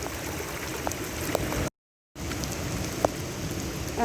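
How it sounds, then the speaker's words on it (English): A heavy rain downpour near a flooding bridge, a steady dense hiss of drops on surfaces with a few louder splats, cut by a brief gap of silence before resuming. "When we had a downpour like this, it would flood like this."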